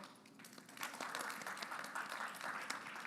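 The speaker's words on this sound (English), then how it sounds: "A round of applause for Jessica." Audience applause welcoming guests at an event, starting softly and swelling into steady, moderately distant clapping from a modest crowd.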